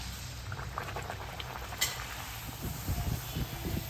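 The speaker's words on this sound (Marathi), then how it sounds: "आता वडे तळूया." Vadas frying in hot oil, a soft bubbling sizzle with scattered pops that grows slightly busier toward the end, fairly quiet and without speech.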